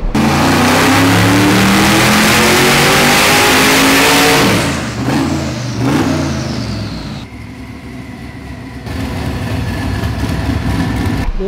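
A 427 LS engine screams through a full-throttle dyno pull, rising to a loud high-rpm wail before the throttle closes and the revs fall away into a rumbling idle, with no voices.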